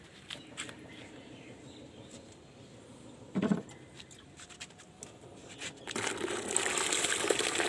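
Fresh water is poured in to fill a container of rooftop-garden liquid organic fertiliser. Scattered splashes and knocks build to a loud, sustained gushing pour at the end.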